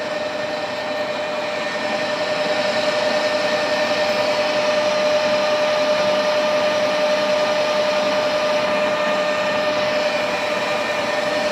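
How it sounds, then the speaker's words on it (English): A lathe machines a steam waggon pin held in a collet chuck, producing a steady loud hum with a constant whining tone and a broadband cutting hiss that run unbroken throughout, with no speech. "As you can see, it's machining very nicely, decent bit of material."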